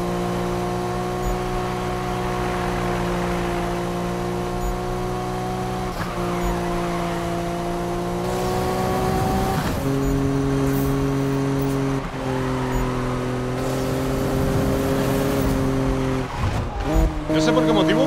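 Sustained engine drone from racing cars in Need for Speed 2015, loud and close, with gear-shift pitch steps, tire squeals and skids through a street race; someone talks over the engine noise throughout.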